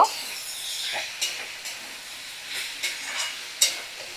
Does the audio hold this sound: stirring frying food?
yes